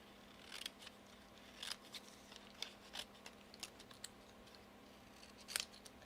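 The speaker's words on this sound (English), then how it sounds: "Scissors, which I literally just put away." Scissors snip through paper stamped images in a quiet room, a series of crisp, close, separate cuts coming at irregular intervals, with one louder burst near the end and no talking.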